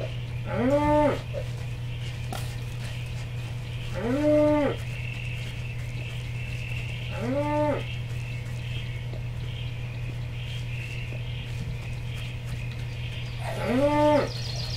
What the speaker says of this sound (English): Got a cow.